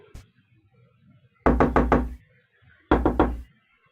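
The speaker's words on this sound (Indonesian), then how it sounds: "ada terdengar suara ketukan pintu" Two crisp bursts of knocking on a door, each a quick run of about four raps, sound close and loud against a quiet room, with no voices.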